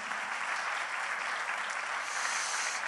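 A church congregation claps together in a dense, even wash of applause, steady and fairly distant, lasting a few seconds without pause.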